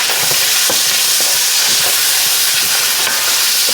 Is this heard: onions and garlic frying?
yes